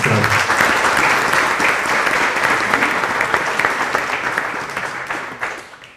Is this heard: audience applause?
yes